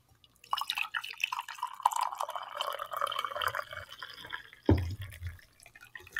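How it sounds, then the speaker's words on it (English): Coffee poured from a pot into a mug, a steady liquid trickle and drip running for several seconds, fairly close, ending with a sharp clunk as the pot is set down, no talking. "Pause for coffee pouring noise."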